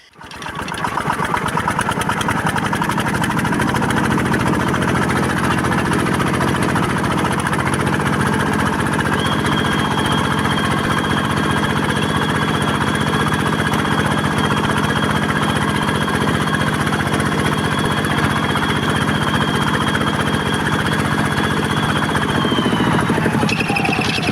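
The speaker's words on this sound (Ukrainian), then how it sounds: "треба заводити тракторця і поганяти їжачки по городу" A small tractor's engine drones steadily while dragging hedgehog weeders through a potato field, a near, even mechanical hum with a rattling edge that holds for over twenty seconds without talk.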